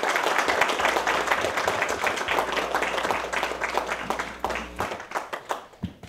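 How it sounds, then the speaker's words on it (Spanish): A crowd at a community project launch in San Antonio de la Cruz, Chalatenango, El Salvador applauds to welcome a US embassy representative; dense clapping holds steady, then thins into a few scattered, separate claps at the end. "Pido de por favor que recibamos con un fuerte aplauso al representante de la"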